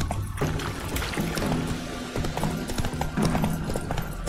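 Roach, the horse in The Witcher 3, clip-clops along at a steady trot with close, continuous hoofbeats, while someone speaks briefly over them.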